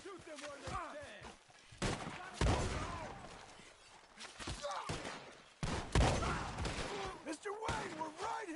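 Gunfire from a shootout in the video game Red Dead Redemption 2: several loud, sharp bursts and scattered shots, with game characters talking over and between them.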